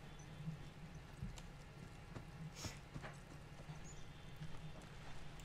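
Horse hooves clip-clop in The Last of Us, a soft, steady run of muffled thumps kept low and faint against a quiet game backdrop.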